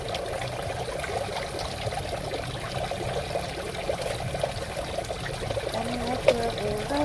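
Water trickles and pours steadily from a free tap at a bus parking area in Goa, Camarines Sur, with a continuous splashing stream and people talking nearby.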